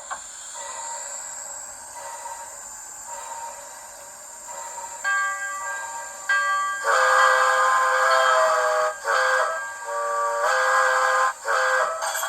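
An ESU sound decoder in an On30 2-8-0 steam locomotive model sounds a steady steam whistle. The tone starts softly, then comes in longer, louder blasts separated by short breaks, with a constant electronic hiss underneath.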